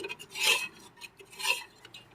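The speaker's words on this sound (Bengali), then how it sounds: "এবার ক্যারামেলটাকে এখানে মিশিয়ে নিচ্ছি এবার একটু নেড়ে চেড়ে মিশিয়ে নেওয়ার পর কিছুক্ষণ ফুটিয়ে নিচ্ছি" A spoon stirs caramel into milk in a pot while making Bengali mishti doi, producing two soft swishing sweeps with faint metallic scrapes against the pot, close and quiet with no voices.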